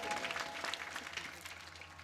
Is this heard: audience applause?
yes